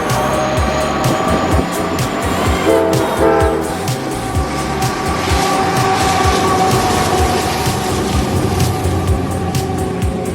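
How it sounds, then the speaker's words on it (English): Loaded CS6 coal freight train passing on the W&A line, loud continuous rumble with rhythmic clacking of wheels over rail joints and a brief horn-like tone partway through. "As CS6 loaded coal train in 302 passes"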